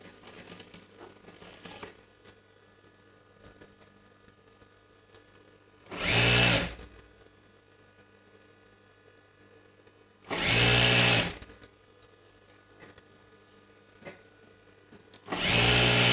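A sewing machine stitches a sleeve onto a ready-made churidar kameez dress in three short, loud motor bursts, each around a second long, separated by quiet pauses with faint handling noise.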